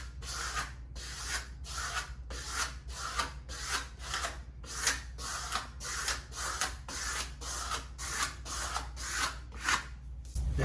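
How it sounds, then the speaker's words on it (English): A squeegee pressed across a floor decal, worked from the middle outward over the whole surface, gives a rapid run of close, even rubbing strokes, about a dozen in a steady rhythm, with no talk. "I'm gonna take my squeegee, and I'm gonna start in the middle and work my way out"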